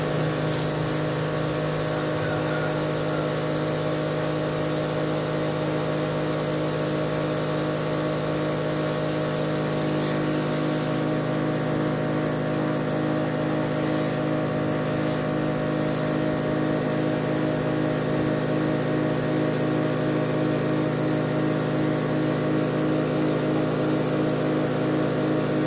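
Custom-built sprayer with a Maraco double-pump 150 psi dynamo running steadily, a constant mechanical motor and pump hum at moderate level with a faint hiss of spray, no voices.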